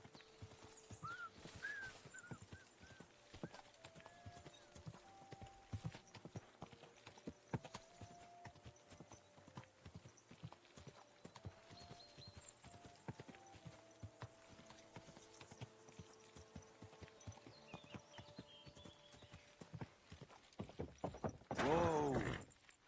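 Steady clip-clop of horse hooves trotting in Kingdom Come: Deliverance II throughout, close and fairly quiet, with a brief whinny near the end.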